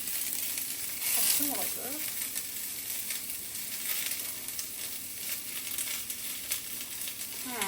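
Onions sizzling and frying steadily in a hot pan for a Kerala-style crab curry, a continuous loud hiss throughout with brief stirring and a few spoken words over it.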